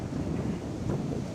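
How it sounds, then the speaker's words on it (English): Strong evening wind buffets the microphone on the Blackpool seafront, making a loud, continuous low rumble with gusty swells across the short stretch, and no voices are heard. "It's so windy tonight, it's just untrue."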